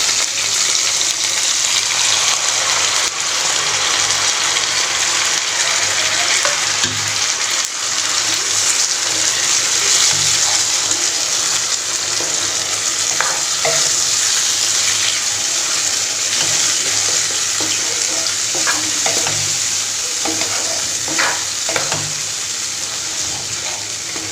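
Spice paste tipped onto capsicum in a hot pan, a steady loud sizzle and hiss throughout with occasional sharp pops and crackles as the oil spits.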